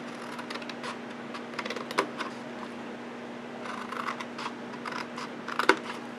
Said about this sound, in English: We're just going to cut up these score lines.